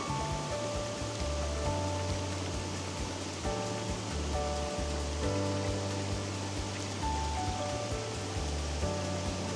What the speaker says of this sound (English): Waterfall in the background.